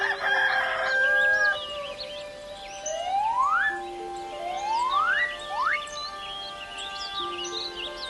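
A rooster crows and hens call with rising, drawn-out notes, several in sequence over a steady background hum, fairly close, in an animated cartoon.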